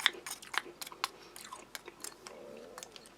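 Crunchy unsalted wheat crackers being chewed with applesauce from an MRE, giving a close series of sharp, irregular crisp crunches and bites with no talk.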